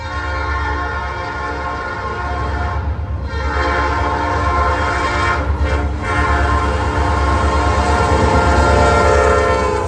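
A Norfolk Southern freight train with only a few cars rolls past in Gaffney, South Carolina. Its loud horn blares steadily over the rumbling engine and wheel noise, building as the train nears.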